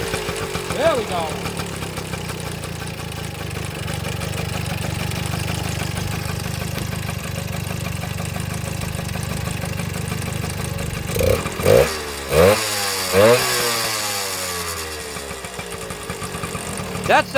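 A 1972 Kawasaki MT1 motorcycle engine idles steadily and close by after a kick start, with a loud, even putter and a few blips of revving near the end, with voices speaking briefly.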